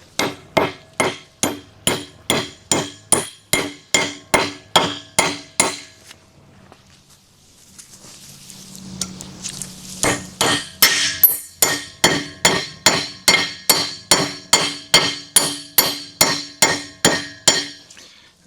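Steady metallic hammer blows driving pins into a Columbian #206 bench vise during restoration, two long runs of rhythmic ringing strikes at close range separated by a brief quieter pause, with no talk.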